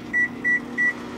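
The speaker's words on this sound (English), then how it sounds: "Yes, we have microwave power." A microwave oven hums steadily and gives three evenly spaced, high electronic beeps, clear and close, while running on generator power.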